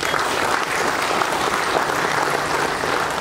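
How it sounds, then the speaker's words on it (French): An audience at a workshop session gives sustained, even applause, many hands clapping steadily and fairly loud from start to finish. "je vous demande de les applaudir tous"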